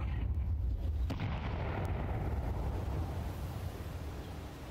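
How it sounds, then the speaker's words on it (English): A grenade blast in Counter-Strike 2 on the Inferno map, a dense roaring explosion with heavy low rumble that starts loud and slowly fades over several seconds, with no talking. "Grenade out."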